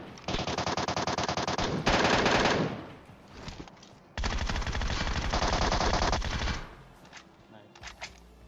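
MK14 rifle gunfire in PUBG Mobile, rapid bursts of shots in two long loud volleys with scattered lighter pops in between, close and dominant.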